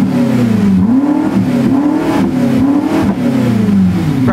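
A car engine revs loudly and continuously, its pitch rising and falling in repeated throttle blips, close and alone with no talk.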